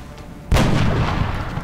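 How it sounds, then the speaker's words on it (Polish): A single sharp, booming video game gunshot from X-COM: Enemy Unknown cracks out after a moment of quiet, followed by a short rumbling decay. "Dobra, Diego, strzał."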